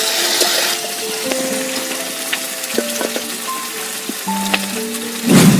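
Potatoes and prawns fry in oil in a pan, giving a steady close sizzle with scattered bright pops and clinks, ending in a louder sputter.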